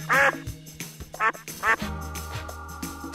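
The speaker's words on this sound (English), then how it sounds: "duck," A farm duck quacks in three loud, separate bursts over soft background music.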